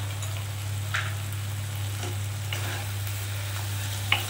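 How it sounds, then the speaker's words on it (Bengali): Snails cooking in a pan with mustard oil fry in a steady, even sizzle under a low electrical hum, with a few sharp spatters and spoon taps scattered through. "এবারে আমি এর মধ্যে শুধু সর্ষের তেলটা একটু ছিটিয়ে দিয়ে দেবো"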